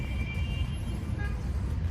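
Street traffic beside Carolina Park in Quito, Ecuador, forms a steady low rumble of passing vehicles, continuous and moderately loud with no clear breaks.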